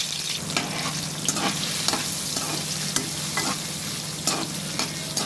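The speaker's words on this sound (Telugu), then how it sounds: "ముక్కలు తగలాలి కదా కొంచెం వేయించుకుంటే టేస్ట్ వస్తాయి" Small chopped vegetable pieces frying in a pan for fried rice give a steady sizzle, punctuated by sharp spatula scrapes and clinks from stirring, close and unbroken.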